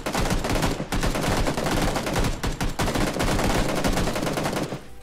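Rapid automatic gunfire in PUBG, a loud, continuous rattle of closely spaced shots with only short breaks, up close and alone, ending abruptly.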